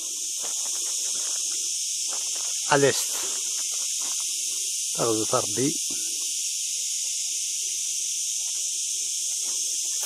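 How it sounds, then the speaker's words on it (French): Cicada singing without pause on a scorching day of about 38 to 40 degrees in a Kabylie village, a steady bright buzzing drone throughout, with someone speaking briefly over it twice. "On entend la cigale chanter sans arrêt, car il fait aujourd'hui 38 à 40 degrés à l'ombre."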